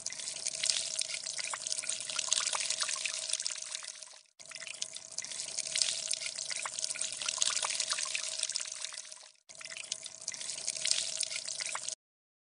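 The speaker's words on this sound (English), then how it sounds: "Now you can see water coming out from the hole." Water trickles steadily out of a hole in a bottle during a simple science experiment, a continuous close splashing stream broken by two short pauses.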